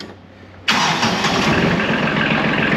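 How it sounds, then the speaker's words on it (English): Quiet background, then a tractor engine catches abruptly and settles into a loud, steady, rumbling idle close by. "So, let the tractor fire it up,"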